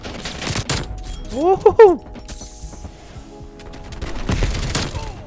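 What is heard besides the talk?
silenced M16 gunfire in video game Call of Duty Cold War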